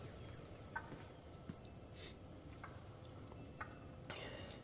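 A wild turkey tom gobbles at a distance over steady outdoor background noise in Missouri, with a few faint bird calls scattered through.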